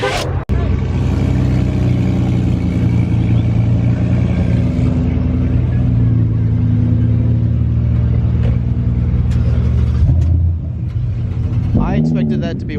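A Lamborghini Aventador exhaust holds a loud, steady low rumble for about ten seconds, then drops briefly before a sharp final burst; voices may be present.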